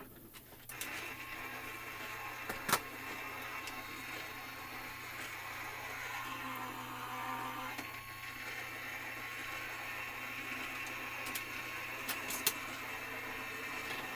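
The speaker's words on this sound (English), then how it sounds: "We're going to run this through our Gemini Junior." A Gemini Junior foil press runs steadily for about fourteen seconds with a continuous mechanical whir and gear rumble and a few sharp clicks, close by with no talk.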